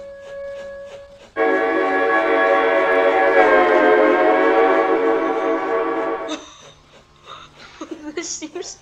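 A giant cargo train in the video game Train Frontier Classic sounds a loud, steady horn blast lasting about five seconds, followed by quieter rattling and clatter from the rails.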